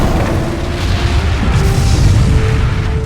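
An asteroid impact explosion sound effect rolls on as a loud, continuous, deep rumbling roar that fills the whole stretch without any break.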